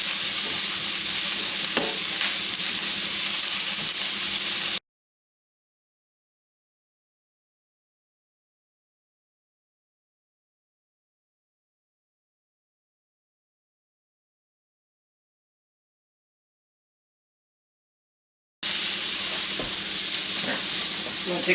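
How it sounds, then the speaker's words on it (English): Sliced onions and cremini mushrooms fry in oil with a dense, hissing sizzle, heard in two loud stretches separated by a long gap of silence. "we're going to start frying up the onions I sliced up"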